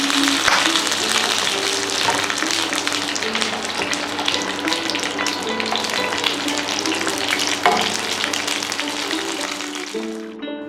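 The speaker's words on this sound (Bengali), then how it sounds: "মাঝারি আঁচে পটলগুলোকে হালকা লাল করে ভেজে নেব।" Pointed gourd (potol) frying in mustard oil over medium heat, a steady close sizzle running throughout with faint clinks and a brief splash near the end.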